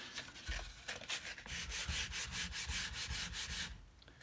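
Sandpaper rubbed back and forth by hand along the wooden neck of a cigar box guitar, close and rhythmic rasping strokes repeating steadily for several seconds.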